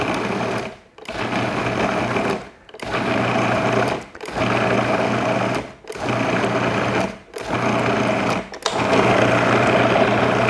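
A blender whirs through frozen banana for maple bourbon walnut nice cream, a loud, steady motor drone broken by brief dips about every one and a half seconds.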